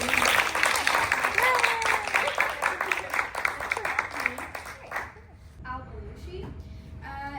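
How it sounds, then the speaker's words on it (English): Applause from an audience at an international student information session fills the first five seconds, dense and steady, then fades out, leaving quieter room noise with a few faint sounds. "Can we all clap for her, please?"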